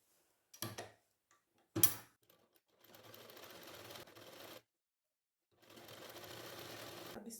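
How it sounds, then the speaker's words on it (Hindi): A sewing machine stitches a strip on a tucked blouse, with a couple of sharp clicks first and then two steady runs of whirring stitching separated by a pause, close and fairly quiet. "इसके ऊपर एक सिलाई यहाँ बिल्कुल साथ साथ में मारनी है इसी वाली पट्टी पे"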